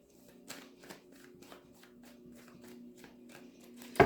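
Tarot cards are shuffled by hand with soft, rapid riffling and light slapping, close and quiet, ending in a sudden louder thump.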